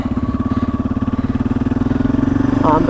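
A motorcycle engine pulses at a steady, throbbing idle up close, then the revs rise slightly near the end as the rider eases the clutch out and pulls away.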